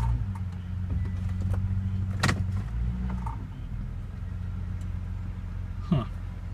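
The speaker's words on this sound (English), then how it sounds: "the reason the RPMs are probably going down like that is because" A Nissan Altima engine runs on old gas after sitting, with its RPMs sagging. A close, steady low rumble dips in pitch partway through, with a sharp click near the middle and another brief knock toward the end.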